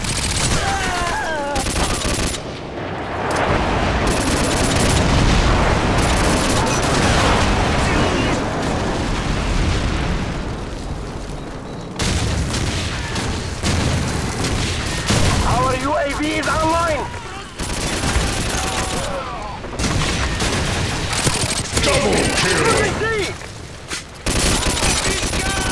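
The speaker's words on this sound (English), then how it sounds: "Friendly airstrike on the way!" Friendly airstrike in Call of Duty 4, with heavy explosions and booms mixed into constant rattling gunfire across a chaotic multiplayer firefight, as voices speak at intervals over the din.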